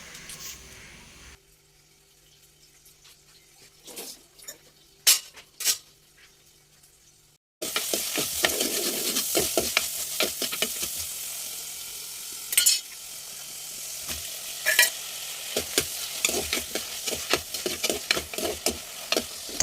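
Tomatoes and onions sauté in a pan in a village home kitchen, quiet stirring knocks at first, then a sudden loud, continuous sizzle with frequent stirring clatter, close by.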